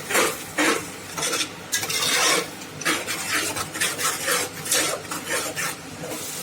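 Tomato paste fries in a pan while a utensil stirs and scrapes it in repeated rasping strokes, with a faint sizzle underneath and no talking.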